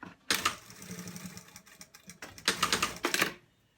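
A sewing machine stitches in the ditch along the middle seam of a fleece hoodie, running in a short burst, pausing, then running in two closer bursts that stop and start.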